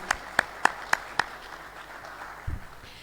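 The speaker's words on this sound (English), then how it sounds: "So let's give them a round of applause." At a Sunday Love Feast gathering, a short burst of five sharp, evenly spaced claps rings out close and clear, followed by quiet and a brief low thump.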